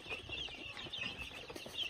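A brood of young chicks, faint high peeping and chirping in quick repeated calls, soft and close, with light rustling underneath.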